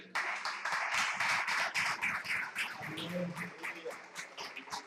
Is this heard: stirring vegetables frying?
no